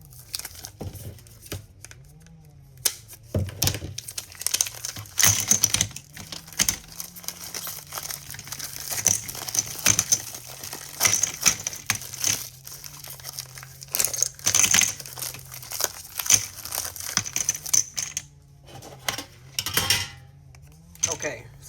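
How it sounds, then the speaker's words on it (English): A package of dominoes is busted open by hand. Crinkling plastic and tearing come in bursts, along with small clicks and clatter of the tiles, close and moderately loud. "You're gonna open these dominoes up. You gotta kind of bust them open."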